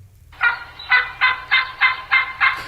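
A turkey hen yelps in a clear run of six evenly spaced calls, close and loud, with no talking over them.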